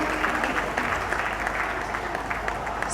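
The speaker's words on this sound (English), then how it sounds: "Please clap." An audience applauds at an Independence Day award ceremony, a short burst of steady dense clapping that fills the whole moment.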